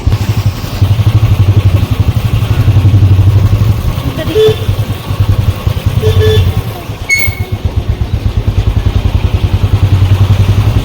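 A motorcycle engine thrums loudly and continuously at close range as the bike rides along in light rain, with occasional clatter and a short voice over the engine.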